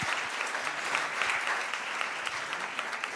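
An audience at a startup pitch demo day claps after a presentation, a continuous, even patter of many hands at moderate volume throughout.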